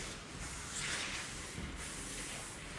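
KMS strong-finish hairspray sprayed onto hair during a curly haircut, a steady close hiss that runs nearly unbroken, swelling slightly in short bursts, with no talking.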